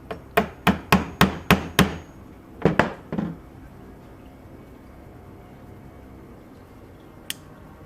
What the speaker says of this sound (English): Hammer here.